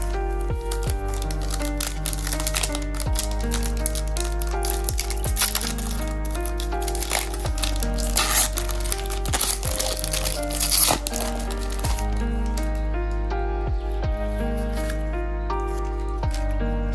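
Pokémon Evolutions trading card packs are torn open and handled up close, with repeated crisp crinkling and crackling foil wrappers, sharp snaps and rustles in an irregular rhythm throughout.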